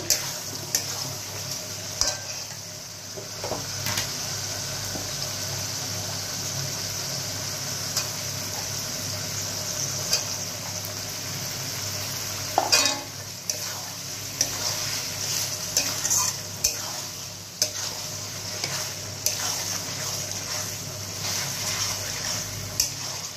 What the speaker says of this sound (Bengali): ভালো করে ঢেকে দেবো, একটুখানি কষুক চিকেনটা